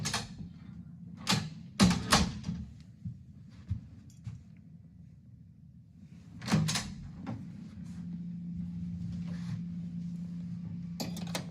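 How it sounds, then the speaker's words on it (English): A door travel lock being fitted onto a door, heard as a few sharp clicks and knocks of plastic and metal against the door, close and fairly quiet, with soft handling rustles and quiet pauses between them. "travel locks can usually be installed in a matter of seconds"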